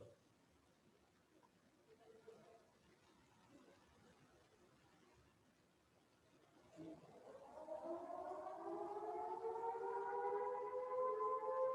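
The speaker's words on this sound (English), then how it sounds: "Now the siren has played, sir." A siren sounds in a school setting, starting about midway and rising into a loud, sustained wail with a strong, steady pitch that holds to the end after a quieter stretch of faint background noise.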